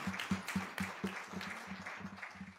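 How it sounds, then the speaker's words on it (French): A parish congregation at a fourth Sunday of Easter Mass applauds the children making their first communion, with quiet, fairly sparse clapping and a low rhythmic thumping beneath it. "Puis on va les applaudir si vous voulez bien"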